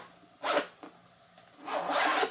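Two rasping pulls of a stiff boot zipper, a short one and then a longer, louder one, close by with no voices.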